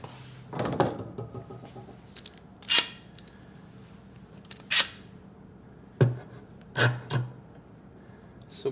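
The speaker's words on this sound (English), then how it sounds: "Start putting clamps on, and I'll be adjusting it as I go." Clamps go onto a cabinet glue-up, giving a series of separate sharp clicks and ratcheting snaps spaced a second or two apart in a quiet room.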